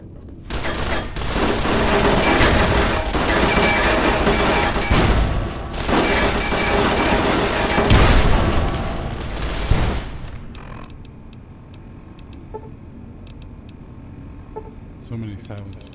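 Frag grenades and gunfire in a Fallout video game produce about ten seconds of dense explosions and rapid shots, loud and continuous, then the noise drops to quieter game sounds with faint scattered effects.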